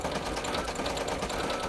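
Embroidery machine stitching black thread eyes for a treat pouch, a fast, steady mechanical rattle held close and loud without pause.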